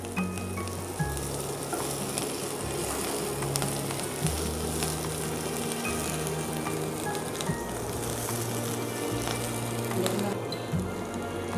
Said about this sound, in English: So now after stirring our chili and garlic mix